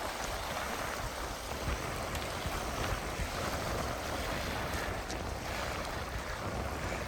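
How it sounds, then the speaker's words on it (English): Strong wind sweeps along the open shoreline of Bumping Lake, a wide campground lake dotted with tree stumps, giving a constant loud whooshing roar mixed with faint lapping water and no talking. "It is very windy today,"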